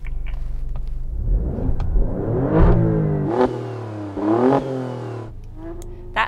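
An Alfa Romeo Stelvio QV engine revving at a standstill, with several rising blips climbing and falling back to a steady idle, loud and close without talk.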